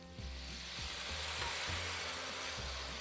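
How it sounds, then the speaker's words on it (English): Steady sizzling of dry masala spices frying in a pan over a medium flame, a continuous hiss with occasional stirring scrapes, close and fairly loud with no talking. "now you need to fry the masalas on a medium flame for 3 to 4 minutes"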